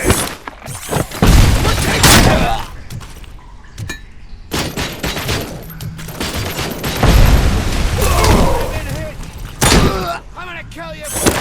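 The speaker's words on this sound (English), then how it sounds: "Grenade!" Grenade explosions and heavy gunfire in the Robocop Rogue City shooter game, loud booming blasts and bursts of shots repeating across the scene, with shouted voices over the combat.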